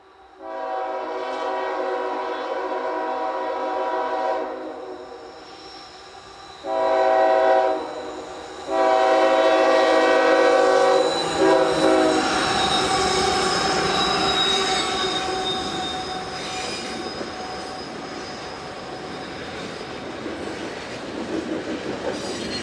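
A CPKC freight train led by an ES-44 locomotive labours up a steep grade, with long, loud wheel squeal in layered tones, a strong horn-like blast, then heavy rumbling, clanking rail noise as the cars roll past.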